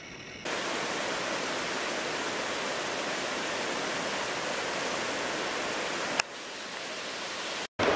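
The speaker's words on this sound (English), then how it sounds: "you hear it for a little while, but this Enlow Creek, which the trail is going to follow down for a while, starts right about there" Enlow Creek, a mountain stream along the Benton MacKaye Trail, flowing as a steady broadband rush of water, even and continuous, with a brief cut near the end and no talk.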